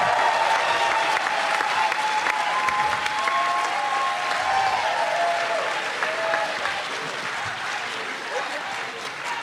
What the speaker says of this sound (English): Ladies and gentlemen, start clapping your hands right now